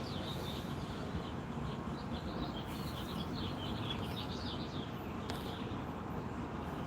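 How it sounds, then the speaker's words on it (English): Birds chirp and trill faintly outdoors against a steady, dense background rumble. The calls come in scattered bursts throughout. "the birds, we never hear them on the Rancho"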